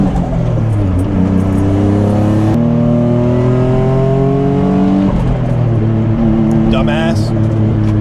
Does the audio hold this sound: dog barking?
no